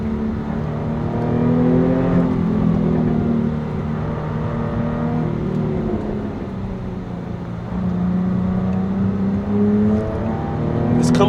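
Interior cabin noise of a Jaguar F-Type S cruising at steady speed with its ZF automatic gearbox, a continuous low engine hum and road rumble with gentle rises and falls in pitch, without talking.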